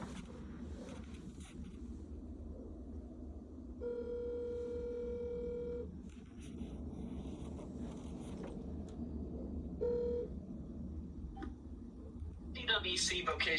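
A played-back recording of a telephone call being dialed: tones beep at intervals amid a low hum, with a voice talking faintly in the background.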